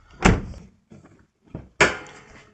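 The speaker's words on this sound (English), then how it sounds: "I go ahead and pop the hood" Hood release and latch on a Toyota Prius: a sharp clunk, then a faint click, a short knock and a louder rattling pop as the hood springs up, close and alone.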